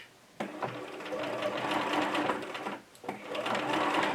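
A home sewing machine runs a straight stitch along a seam in handmade fabric for a washable market tote, a steady close mechanical whir that starts after a brief pause, dips near the end and resumes.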